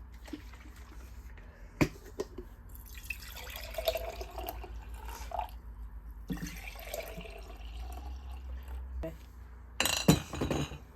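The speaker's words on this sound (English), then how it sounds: "now I'm about to pour some of that into some of these jars" Fresh pressed juice poured into glass jars, with clinks of glass, dripping and trickling liquid, and sharp knocks near the start and end, under a faint voice.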